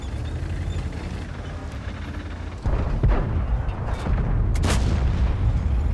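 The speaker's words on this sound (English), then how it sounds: "Puts a shot into that dead tank." A tank cannon firing in World of Tanks, a loud deep boom that cuts in sharply partway through, with rumbling low-end blasts and a second burst following, over constant game engine noise.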